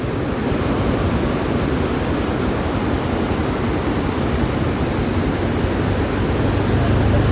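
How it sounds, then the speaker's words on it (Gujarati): Water from the Sabarmati River pours down a waterfall in full flow, a steady, loud broadband rush that holds constant throughout with no voices. "પાણીનો ધોધ જોવો નીચે, ના બાજુ સાબરમતી નદીમાં હાલ પાણી ફૂલ ચાલુ છે"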